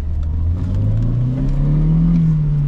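A 1992 Volvo 940 with a naturally aspirated 2.3 engine pulls hard on the autobahn, its steady engine drone climbing smoothly in pitch over a constant rush of road and wind noise, loud and close from inside the car.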